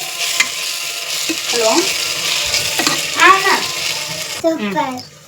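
Spoon stirring turmeric and chili powder into a tomato bath mixture in a pan, a steady scraping and sizzling close by with a voice speaking over it.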